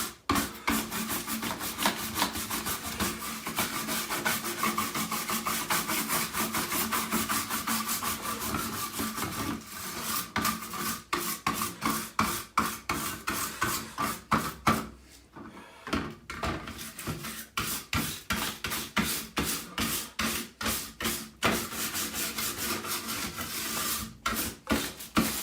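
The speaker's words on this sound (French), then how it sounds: "on peut passer partout avec ce genre de brosse sur la carte mère" A long-bristle brush sweeps repeatedly across a computer motherboard from a Schneider CPC664, producing close, dry rubbing strokes, steady at first and then in a quick rhythmic series of scrubbing passes.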